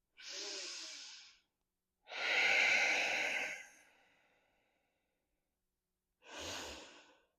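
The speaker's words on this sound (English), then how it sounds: "Keep breathing, inhaling and exhaling back out through the nose" Three slow, airy breaths through the nose during yoga, a long inhale then an extended sighing exhale and another short breath, close and quiet with silence between.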